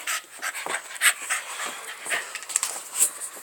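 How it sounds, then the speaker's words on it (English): A pit bull dog pants rapidly and close by, quick breathy huffs in an uneven rhythm with a few faint whimpers mixed in. "What kind of dog is it? Pitbull."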